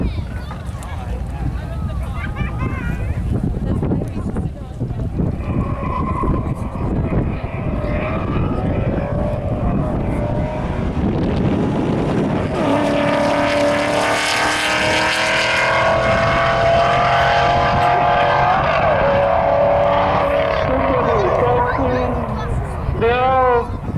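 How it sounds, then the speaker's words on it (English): A Ford Mustang and a Super B race side by side at a drag strip event, engines roaring loudly and rising in pitch as they launch and accelerate past, under a continuous crowd-and-track wash with some talk. "Mustang against a Super B."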